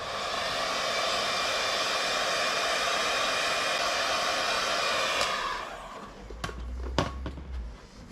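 A heat gun blows a steady, loud hiss of hot air onto a dented plastic car bumper for several seconds, then cuts off, leaving a few faint knocks and handling sounds.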